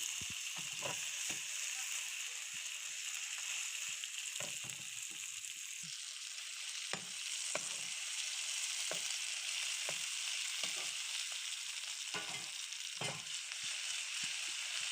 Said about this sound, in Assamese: নুডলছখিনি ইয়াতে ভাজিব লাগিব আকৌ